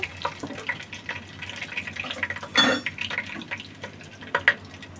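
Whole bay leaf, cardamom, cinnamon and cloves go into a cooking pot for beef haleem, giving small scattered clinks and light clatter over a soft background sizzle, with one louder burst midway and no talking.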